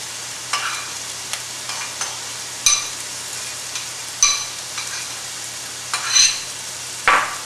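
Cream cheese and sour cream being stirred together in a bowl for a flammkuchen spread, with a handful of scraping clinks and taps spaced irregularly over a faint steady hum, no talking.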